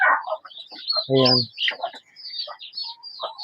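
Farm fowl, turkeys among them, cluck and chirp close by in short, repeated calls with one longer raspy call, while a voice speaks briefly.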